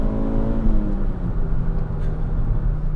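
A JDM hot hatch engine revs steadily toward 5,000–6,000 rpm, a loud, sustained close-up drone with rising harmonics and no pauses.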